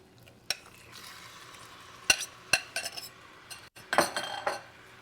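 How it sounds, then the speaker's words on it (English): Raw chicken pieces go into a hot pan for chicken stroganoff and get stirred around, with sharp utensil clinks and scrapes against the pan over a low, steady sizzle. "So now it's time to introduce the meat."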